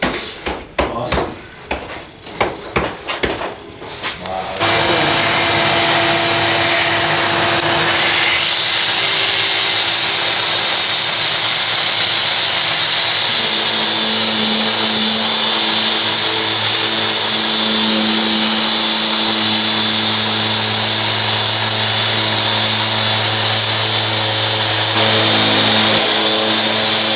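A power tool sands a glass fiber reinforced concrete shower pan. After a few seconds of clattering handling knocks, a loud, steady whine holds for more than twenty seconds with small shifts in pitch.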